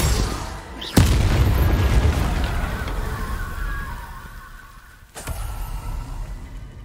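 A loud boom from the Bombarda blast spell in Hogwarts Legacy goes off about a second in, with a rumbling roar trailing behind it and a second sharp burst near the end.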